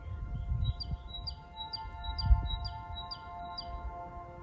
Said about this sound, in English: Don't know what kind of bird it is, but it's very close